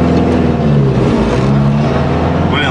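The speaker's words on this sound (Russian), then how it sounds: "вот это звук старого такси вообще." Engine of an old Volga taxi car revving, a steady loud mid-pitched drone that swells and falls slightly, with a faint whine near the end and no talking.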